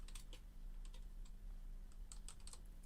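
A phrase being typed on a computer keyboard in video editing software, with soft irregular key clicks in small bursts over a steady low hum, quiet and close, no voices.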